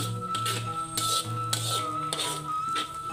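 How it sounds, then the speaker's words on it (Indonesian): A utensil scrapes and clinks steadily against a pan as a thick tempeh mixture for orek tempe is stirred, with repeated knocks of metal close by. "Kalau udah langsung kita aduk-aduk biar tercampur rata, tercampur baur."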